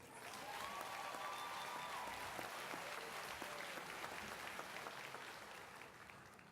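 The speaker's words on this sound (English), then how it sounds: "A big round of applause for our parents," Graduates and guests at the 2018 Claflin University commencement applaud parents, a broad, fairly distant roll of clapping that holds steady and then slowly fades.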